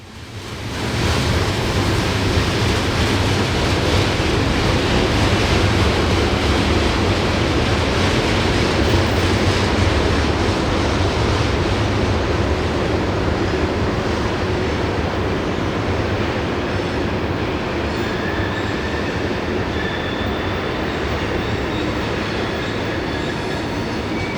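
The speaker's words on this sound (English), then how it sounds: "the rain-soaked garbage cars glided past and eventually disappeared around the curve past the station lights" Rain-soaked BNSF freight cars roll past a station in a long, steady rumble with a broad clattering roar that fades slightly toward the end; no voices.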